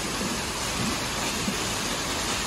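A waterfall in Himachal pours in a steady, dense roar of rushing water, close and continuous with no break.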